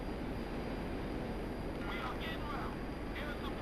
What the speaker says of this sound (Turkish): aha geliyor bir helikopter da